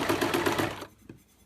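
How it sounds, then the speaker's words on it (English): A sewing machine stitches an apron seam in a sewing class, running in a fast steady hum for under a second before stopping, close and loud. "I'm probably doing roughly a 1/2 inch seam."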